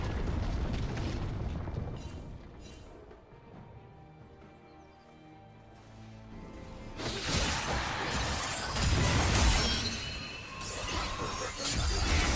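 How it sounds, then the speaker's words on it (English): A turret being destroyed in the video game League of Legends: crumbling, shattering crashes with heavy rumbling bursts. There is a loud opening hit, a quieter lull, then a second, more intense wave of debris and booms. "Red Team's turret has been destroyed."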